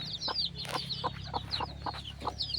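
Chickens cluck in a run of short, repeated calls with higher chirping from newly hatched chicks on top, close by and fairly steady over a low background hum.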